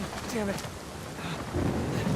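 Rain and rolling thunder in the video game Uncharted 4: a dense, steady wash of rainfall with a low rumble. A voice briefly cuts through partway.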